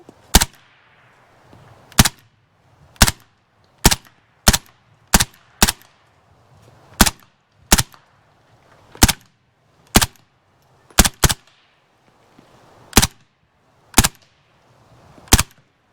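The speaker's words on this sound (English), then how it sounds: "First silenced, hopefully, shots out of the SD." Roughly seventeen suppressed shots from a Turkish MKE AP5SD MP5-SD clone braced pistol fire outdoors at a range as sharp cracks spaced irregularly, some in quick pairs, with quiet between them.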